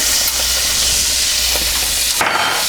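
Bacon frying in a pan with extra oil and Bertolli spread added, a steady close hiss and sizzle that runs without pause, with a brief clatter near the end.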